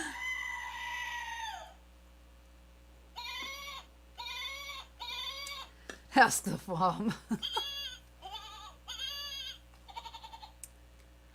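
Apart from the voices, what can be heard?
goat screaming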